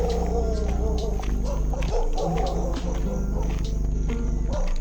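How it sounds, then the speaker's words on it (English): A large pack of dogs barks and howls together in loud, overlapping, continuous bursts beneath a heavy low rumble, with no pause across the stretch. "That is a lot of dogs."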